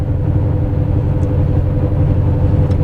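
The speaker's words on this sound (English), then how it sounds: "This van drives pretty well." A Honda Odyssey van that was running rough, now fixed, cruises along a road with a loud, steady engine rumble and road noise heard from inside.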